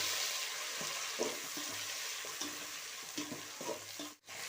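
Chopped tomatoes added to a frying pan of softened onions for vegetable biryani, a soft continuous sizzle with a few stirring clatters and scrapes, fairly quiet, with a brief drop near the end.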